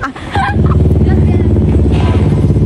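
A motorcycle being ridden, its engine a loud, steady rhythmic putter that holds throughout, with a few brief speech sounds at the start.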